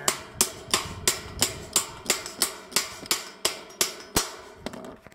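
Sharp metallic hammer blows knock a bolt into a wind tower assembly, about fifteen evenly spaced strikes at a steady rhythm, close and distinct with brief ringing after each hit.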